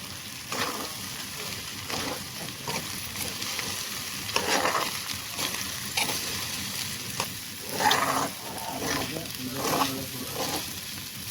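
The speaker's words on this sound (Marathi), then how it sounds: "साबुदाणे आणि शेंगदाणे मिक्स करते" Soaked sabudana and peanuts are stirred together in a pan for sabudana khichdi, giving a continuous scraping, sizzling texture with repeated stirring strokes, close and fairly even, without talk.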